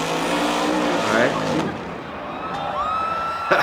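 An off-road vehicle's engine screams at full throttle in an arena-style motorsport event, loud and sustained with a rising whine and tire noise, while a voice talks over it.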